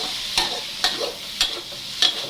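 Chicken fried rice being stir-fried in a pan, heard as four evenly spaced scraping strokes of a utensil over a steady sizzle, close and fairly loud, with no talking.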